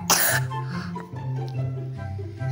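A single sharp, loud cough bursts out at the start of Roblox Escape gameplay, then a low, steady hum of game music and background tones carries on underneath.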